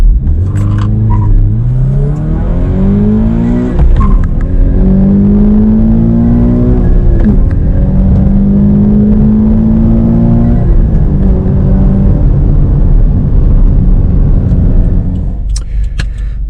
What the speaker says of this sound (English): Okay everyone, so driving the GT86 Hakone Edition.